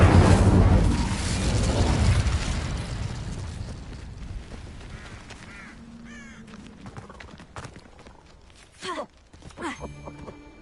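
An Incendio fire spell cast in Hogwarts Legacy erupts as a loud, broadband blast that swells over the first few seconds, then slowly fades into quieter scattered in-game sounds with a couple of brief later bursts.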